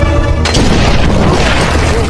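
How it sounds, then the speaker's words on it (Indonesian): A landmine blast in a film scene: a loud, dense, roaring boom that fills the whole moment and sustains as a heavy rumble, with no clear talk. "Akibat ledakan ranjau itu,"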